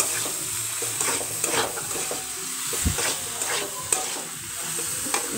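Pasta is stirred with egg and vegetables in a hot pan, a close, steady sizzle punctuated by repeated scraping strokes and occasional light knocks of the utensil against the pan.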